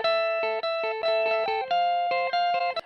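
Guitar notes in a home recording routing demo, passed through an echo delay that is cut off when the mixer level is turned back down, giving a short run of repeating tones that stops abruptly instead of trailing away.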